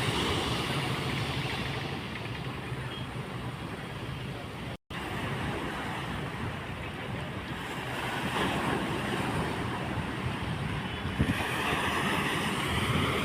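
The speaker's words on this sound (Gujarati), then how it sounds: "અત્યારે નાના નાના એવા મોજા આવી રહ્યા છે" Small waves wash in continuously and lap against the shore at Mangrol harbour, with gusty wind rumbling over the microphone throughout.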